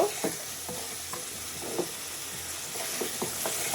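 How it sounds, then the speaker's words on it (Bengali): Dried fish (shutki) sizzles as it is stir-fried in a pan, steady frying hiss broken by repeated scraping strokes of a spatula, close and clear with no talking. "শুটকি দিয়ে আরও কিছুক্ষণ আমি এটাকে নাড়াচাড়া করে ভাজা ভাজা করে অল্প পরিমাণে একটু ঝোল দিয়ে দিব।"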